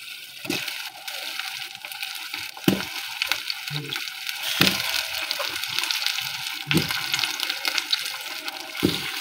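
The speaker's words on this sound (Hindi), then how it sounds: "अब हम इसमें आलू जो काट के रखे हुए हैं वो डाल देंगे।" Cut potatoes are tipped into a pan of softened, frying tomatoes for an aloo palak dish, giving a continuous loud sizzle broken by clattering knocks and scrapes.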